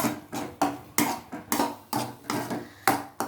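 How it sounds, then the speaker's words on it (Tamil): Egg and salt are stirred in a hot pan over medium flame for kothu parotta, a spatula scraping and tapping the metal in a steady rhythm of about eight strokes, close and fairly loud. "உப்பு போட்டு எக் வேகிற வரை நல்லா கிண்டி விடணும்."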